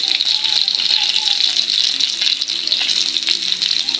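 Tomatoes sautéing in a hot pan of oil, a steady bright sizzle and crackle running throughout, close and fairly loud, with a voice speaking over it.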